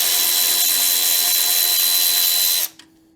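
A power tool, likely an impact driver or drill, runs steadily while removing bolts from a Yard Man lawn tractor during a mower repair, loud and close for nearly three seconds, then cuts off abruptly with a brief clunk.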